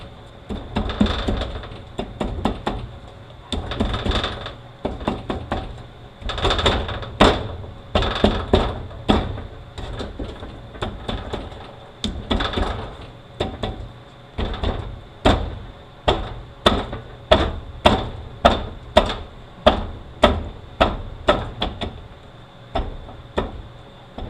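During disassembly of a 5R110W transmission, the pump shaft is worked back and forth, giving a long series of close metallic clicks and knocks in uneven bursts over a steady background hum.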